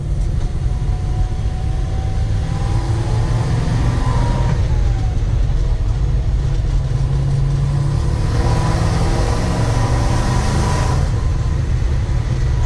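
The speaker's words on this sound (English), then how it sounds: "Truck sounds amazing" A 1963 Chevrolet C10 pickup, LS-swapped with an LSA supercharger, driving on a test run: a loud, steady engine drone with road rumble from inside the cab, rising and falling slightly over several seconds.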